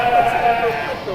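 At a county fair sheep show, a sheep lets out a steady, wavering bleat close by, heard under and between people talking.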